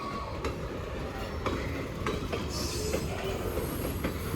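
A Norfolk Southern freight train hauling CSX steel coil rolls past close by, wheels clacking over rail joints in an uneven rhythm with occasional squeals under a continuous rumble.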